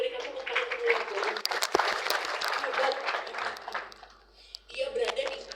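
A church congregation applauds during a sermon, with dense clapping that sweeps through the room and then fades. A short pause follows before scattered clapping picks up again.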